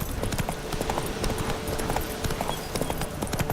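Roach, the horse in a video game, gallops with quick, close, steady hoofbeats in a dense clip-clop rhythm over the whole stretch, loud and with no talking.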